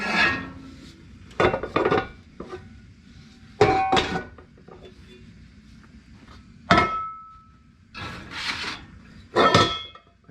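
Heavy cast-iron Dutch ovens clank and knock as sourdough country loaves are turned out onto a bakery hearth, several separate metallic bumps and scrapes spaced a second or two apart over a quiet background.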